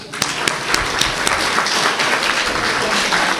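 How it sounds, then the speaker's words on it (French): An audience breaks into dense, sustained applause, loud and close, with many hands clapping together in a continuous wash and a few sharper claps standing out at the start. "Applaudissez-vous."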